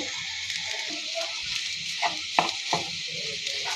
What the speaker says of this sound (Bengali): আলুটার সাথে আমি ভালো করে মিক্স করে ভেজে নিব